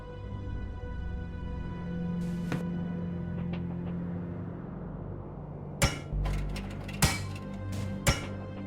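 In the game Monolith, a pole stuck on a bolt in the ground is struck: after a quiet ringing hum come three sharp metallic clanks about a second apart, each leaving a short resonant ring.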